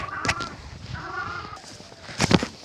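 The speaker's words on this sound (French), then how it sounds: "On va se retrouver tout de suite aux poules." Chickens cluck and squawk in a poultry yard in several short, sharp bursts at moderate distance, with quieter stretches between the calls.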